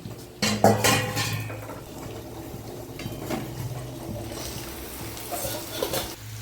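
Chicken is stirred in spice paste in a pan for a Bengali curry, with loud metal clanks and scrapes of the spoon against the pan over a low frying hiss.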